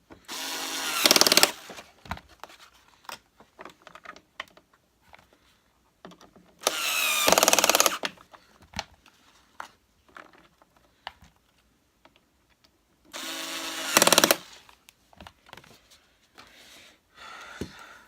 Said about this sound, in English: Last 4 screws going in, my friends.